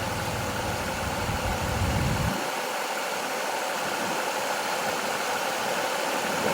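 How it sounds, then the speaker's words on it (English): Mercury Mariner 3.0 V6 engine running with the AC compressor drawing in refrigerant during a recharge, a steady close mechanical hum and hiss that loses its low rumble partway through. "Just allow the compressor to draw the refrigerant into the system."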